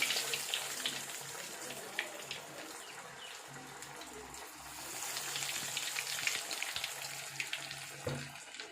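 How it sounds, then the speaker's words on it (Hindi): Nargisi aloo koftas cooking in hot oil make a continuous, fairly quiet bubbling sizzle with small crackles and a few clicks and knocks. "अभी हमारा ऑयल जो है वो गर्म हो चुका है। अब हम एक एक करके ये कोफ्ते इसमें रखेंगे।"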